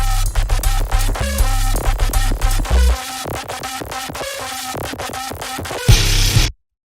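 Heavy DOOM-style metal section, with sustained low synth bass, pounding drums and distorted guitar chugs building to an abrupt drop, loud throughout before cutting off suddenly near the end.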